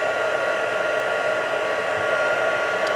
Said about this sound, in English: heat tool on, and my tip is that you always heat this up so it's really nice and hot first